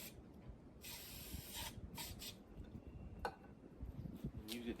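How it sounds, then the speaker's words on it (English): Carburetor cleaner sprayed from an aerosol can to wash out a mixing cup, several short hissing bursts separated by pauses, fairly close and quiet. "I think I'm gonna wash out this mixing cup, carburetor cleaner."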